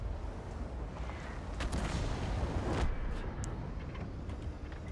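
Tank cannon fire in the World of Tanks video game, from an EBR 90 battle, booms through several loud rolling blasts over a dense, noisy battle background, with no talking.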